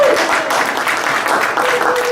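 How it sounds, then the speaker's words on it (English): Applause from a church congregation at an in-person Sunday service, a steady dense wash of clapping lasting about two seconds with a faint tone threading through it. "Let's give Alan a round of applause."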